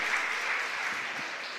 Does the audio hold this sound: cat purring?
no